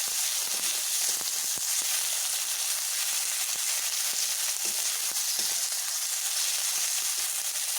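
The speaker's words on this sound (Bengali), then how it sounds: "টমেটোগুলোকে হালকা আমি একটু ভেজে নেব" Tomatoes frying lightly in a pan, a steady hissing sizzle broken by scattered faint clicks and pops, close and even.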